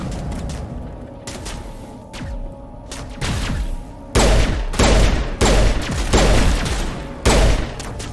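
Pistol fire in the sci-fi shooter Mass Effect: a string of loud, sharp shots in quick irregular bursts, some clustered closely together, over a low game background with no speech.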